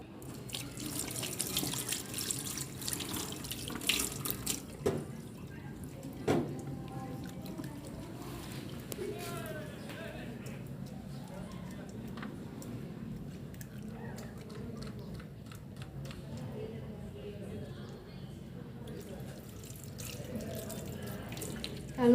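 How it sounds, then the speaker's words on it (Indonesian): Running water from a tap splashes into a sink while hands are washed using the six-step technique, a steady rushing flow with some louder splashes early on, close by and continuing throughout. "saya akan mencuci tangan dengan teknik 6 langkah"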